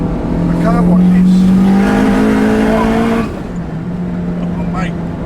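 A 645bhp Honda Civic Type R accelerates hard with its engine roaring loud and rising, tires losing grip, then the revs drop off partway through while people talk inside the car.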